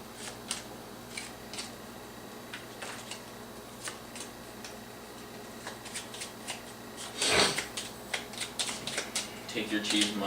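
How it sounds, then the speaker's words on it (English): A deck of cards for a board game is shuffled quickly, a crisp riffling burst in the middle followed by scattered card flicks and table clicks at close range. "We do a quick shuffle."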